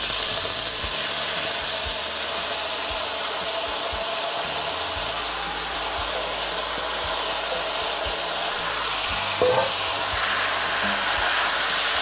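Ratatouille vegetables sizzle in extra virgin olive oil in a pot, a steady, dense hiss that holds evenly throughout with no pauses and no talking.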